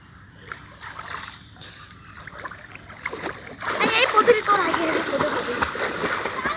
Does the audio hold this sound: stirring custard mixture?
no